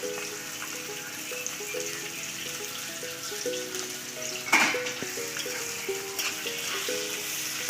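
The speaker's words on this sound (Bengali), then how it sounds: "পেঁয়াজটাকে একটু ভালো করে ভেজে নিতে হবে" Thinly sliced onions frying in hot oil for a jackfruit curry, giving a steady, close sizzle and crackle throughout, with one brief louder burst of spatter midway.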